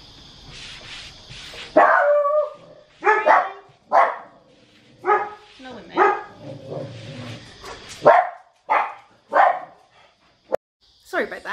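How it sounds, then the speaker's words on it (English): Several dogs bark in repeated bursts over about ten seconds, fairly close and loud, with short gaps between yaps in an indoor furniture-painting workspace. "I had to stop because the dogs were going nuts over nothing"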